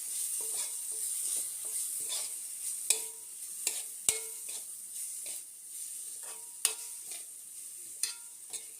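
Ginger and green chilli paste stirred in a frying pan for samosa filling, with gentle sizzling and repeated close spatula scrapes and clacks against the pan at an uneven pace.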